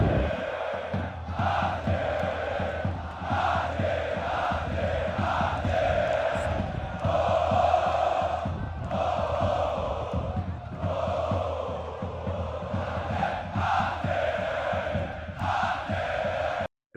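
Al Ahly supporters fill a football stadium with a dense, continuous roar of chanting and cheering. Rhythmic surges in the massed voices rise and fall throughout.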